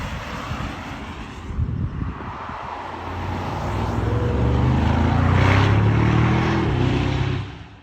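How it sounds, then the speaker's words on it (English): A Mercedes AMG GT with a 4-litre V8 drives on the road, its engine a broad steady roar that swells louder and fuller midway before cutting off, with wind rush throughout and no talking. "it's going to be the familiar 4-litre V8"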